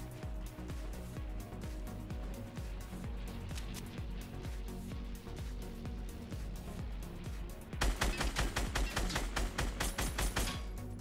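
Rapid bursts of automatic gunfire from Fortnite Battle Royale gameplay, a dense stream of repeated shots that grows louder and more clipped in the final few seconds.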